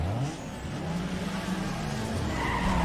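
Car engine revving hard with tyre skid at the start of a street drag race on a bridge in the racing game Need for Speed Underground 2, a loud continuous roar throughout.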